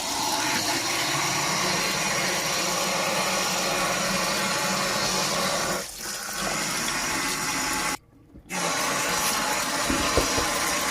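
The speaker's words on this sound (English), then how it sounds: "So anyhow, I cut it up and we're gonna wash it with some lime." Running water from a tap splashes steadily over cut goat meat being washed with lime, a continuous loud rush with a brief break near the end, no talking.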